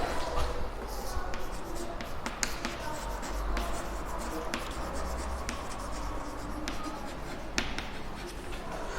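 Chalk or marker taps and scrapes steadily on a board, a run of close, crisp strokes and clicks with no voice present.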